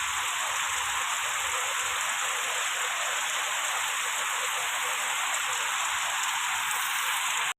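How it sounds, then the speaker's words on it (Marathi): Heavy rain pours continuously on a Konkan village, a loud, dense, unbroken roar of water that never lets up. "पाऊस कंटिन्यू चालू आहे दुपारपासून थांबायचं अजिबात नाव घेत नाही आहे"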